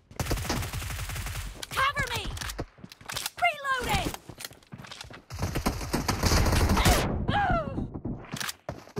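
Gunfire in the BGMI battle royale video game, rapid automatic bursts and sharp single shots coming in clusters, loud and near, mixed with game effects and someone talking over the action.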